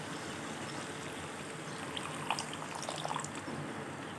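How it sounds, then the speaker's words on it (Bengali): Water poured into a pan of snakehead fish curry with fully fried spice paste, a steady soft splashing trickle heard close up, with a few brighter splashes near the end. "এরপর আমি দিয়ে দেবো পরিমাণ মতো জল।"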